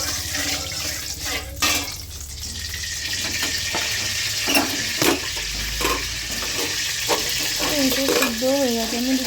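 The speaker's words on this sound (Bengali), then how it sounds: "এইদিকে চিংড়ি মাছটা ভেজে নেবো, কড়াতে তেল দিয়েছি।" Shrimp frying in hot oil in a wok makes a steady, close sizzle with crackling spatters, a few sharp utensil knocks and some running water in the background.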